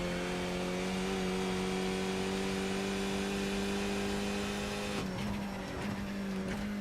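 A race car in the iRacing simulator drives easy laps, its engine holding a steady, close droning note with a brief dip and shift in pitch near the end.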